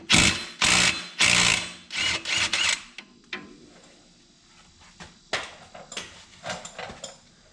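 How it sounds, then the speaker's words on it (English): T60 impact wrench on a long extension working the clutch off a 2021 Polaris RZR Pro XP: several loud, close hammering bursts in quick succession, then quieter rattling and a few shorter bursts. "We're going to use an impact wrench to zap this off here."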